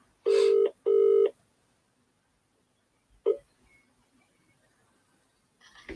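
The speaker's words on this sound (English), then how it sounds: "What I might do is give him a very quick call." Telephone keypad tones sound as two long, loud dialing beeps in quick succession, followed by a short click and then quiet.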